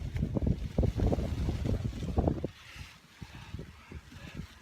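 Gusty wind buffets the microphone outdoors at a fishing spot. Heavy low rumbling surges come in bursts and then ease to a softer, intermittent blustering.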